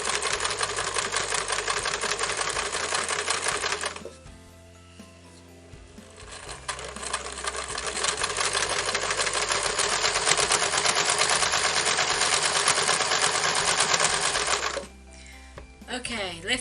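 A sewing machine stitching a tote bag seam runs in fast, continuous rattling bursts, pausing briefly around four seconds and again near the end, with a voice speaking over the mechanical clatter.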